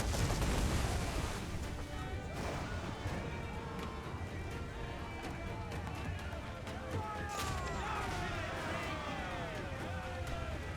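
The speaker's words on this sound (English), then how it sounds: "Incoming fire! Uncork the cannons, lad!" Scattered booming cannon shots and gunfire crackle through a busy naval battle soundscape in Assassin's Creed Black Flag, with shouted voices over the top.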